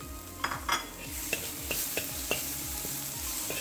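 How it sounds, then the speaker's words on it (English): Green onions tossed into a hot pan of deep-fried halibut stir fry, a bright steady sizzle with a few clinks and scrapes of a utensil against the pan, close and without talk. "Now is about the time I like to add the green onions."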